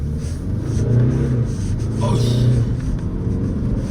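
A Mercedes-Benz CLA with a dual-clutch transmission accelerates hard at full throttle, its engine rising in a loud close rumble, with a quick shift partway through and someone talking over it.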